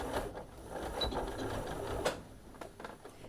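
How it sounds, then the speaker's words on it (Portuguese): A sewing machine backstitches on a fabric backpack, a quiet, steady mechanical whir with faint ticking of the needle mechanism, heard alone. "agora eu já dou o retrocesso para parar"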